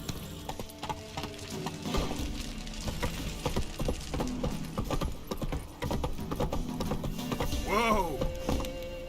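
Roach, a horse in The Witcher 3, trots along in a steady clip-clop of hooves with jingling tack, backed by ambient game sound and a short rising call near the end.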